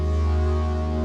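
A fully wet reverb tail on a synthesizer pad in the FabFilter Twin 3 soft synth, a dense, steady low drone with layered harmonics, washing on evenly for a second without any talking.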